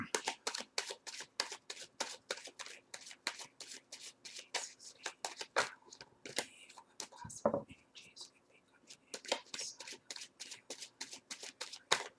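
Tarot cards being riffle shuffled by hand again and again, crisp close fluttering bursts with brief pauses between, while a soft whispery voice speaks in places.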